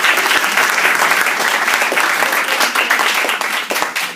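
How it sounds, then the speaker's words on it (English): A crowd applauding Montgomery College student mentors at an event, dense sustained clapping from many hands, loud and near, steady for the whole stretch with no speech over it. "let's give a round of applause to the mentors also"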